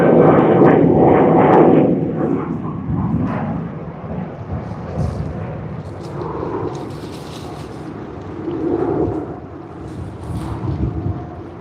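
A Qantas airliner departs Sydney Airport, a broad roaring jet rumble with wind buffeting, loudest at first and then lingering as a steady, distant drone.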